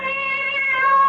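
Cat meowing outside a door in a radio drama, a single drawn-out tonal meow lasting about a second, clear and close.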